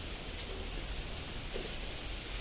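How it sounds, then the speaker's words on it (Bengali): Steady rain on a hot summer day, heard as a soft, even hiss of falling drops with no break and no voices, faint and distant. "তো বুঝতে পারছি না এটা কেমন বৃষ্টি, মনে হচ্ছে লেগে থাকা বৃষ্টি।"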